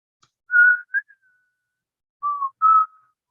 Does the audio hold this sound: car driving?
no